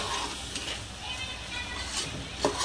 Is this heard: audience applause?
no